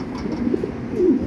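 Pigeons softly cooing on a farm keeping Show King and Andalusian breeds, a low continuous murmuring coo with a few rising calls, close by and steady throughout.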